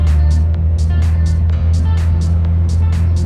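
A Jeep TJ Wrangler engine rumbles steadily and loudly while driving, a deep continuous drone with sharp rattling clicks and bursts of wind or road noise over it.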